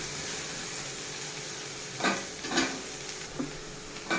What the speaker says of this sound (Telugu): బెండకాయ మొత్తం ఫ్రై అవ్వాలండి